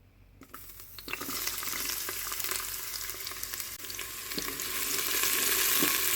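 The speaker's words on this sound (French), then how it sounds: "Mon Cookéo est préchauffé. On vient ajouter l'huile d'olive." Olive oil sizzles and crackles in a preheated Cookeo multicooker, a bright steady hiss that grows gradually louder with occasional pops, close up and without talk.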